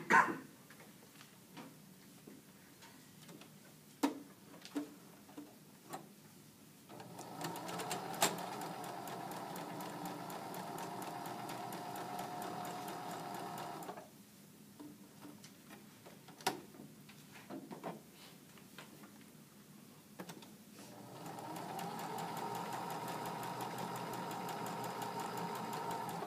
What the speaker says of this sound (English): you need to sew the 1/8 inch around the slit to reinforce it before you cut it open